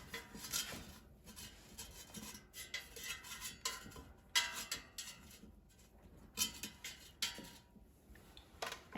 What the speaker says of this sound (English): let's put plantain slices in the air fryer. So I'm going to put it in a single layer.